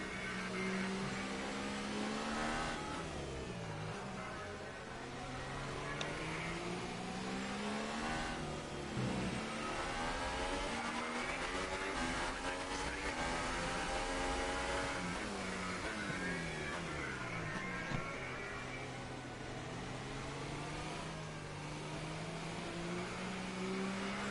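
Race car engine in a racing video game droning steadily for the whole stretch, its pitch sweeping up and down through gear changes and cornering, loud and continuous with no talk over it.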